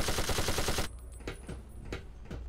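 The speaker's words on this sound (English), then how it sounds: "This is such a quiet-ass gun for a machine gun." A machine gun in Fallout 3 fires a rapid, fairly muted burst of evenly spaced shots, then a few scattered single reports follow over low background ambience.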